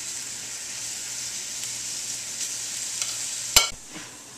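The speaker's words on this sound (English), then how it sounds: "And we're going to saute some of these apples too." Mushrooms and apples saute in a hot pan for pork chops, making a steady, close sizzle with a sharp clatter near the end as the pan is stirred.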